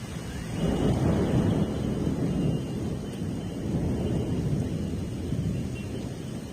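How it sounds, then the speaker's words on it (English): A severe spring thunderstorm in Guangdong's Shenzhen rolls through as a long, deep thunder rumble that swells and fades over steady heavy rain, with no voices. "severe thunderstorms occurred from west to east"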